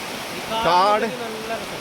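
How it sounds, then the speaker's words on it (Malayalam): A waterfall hidden inside dense forest gives a constant rushing hiss, with a brief voice speaking over it near the middle. "ഇവിടെ ഒരു വെള്ളച്ചാട്ടം ഉണ്ട്, കാട് മൂടിയതുകൊണ്ട് ശരിക്ക് കാണുന്നില്ല"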